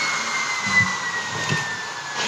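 Dust extraction on a DeWalt radial arm saw runs as a steady, moderately quiet vacuum-like whoosh with a faint thin whistle on top and a couple of soft knocks, with no talking.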